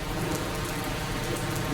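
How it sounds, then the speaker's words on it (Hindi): Steady, moderate rain falls at a military helicopter base in the Siachen region, a continuous even hiss of drops on surfaces with no voices. "यहाँ कई दिनों से बारिश हो रही है"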